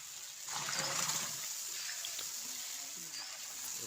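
Water poured from a jug into a pot for beef tehari, a broad rushing splash heard close and fairly steady, with faint voices and kitchen sounds underneath.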